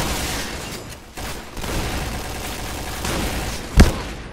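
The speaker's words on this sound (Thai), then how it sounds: "เฮ้ยโอ้โหไอ้เจ้าลูกซอง" Shotgun blasts in the Point Blank first-person shooter game, with a busy crackle of gunfire and scattered reports throughout, and one sharp loud shot standing out near the end.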